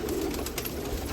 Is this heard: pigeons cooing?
yes